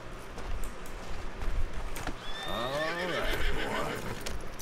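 A horse in Red Dead Redemption 2 gives a loud, wavering neigh midway through, set against a steady outdoor game ambience with faint hoof clatter.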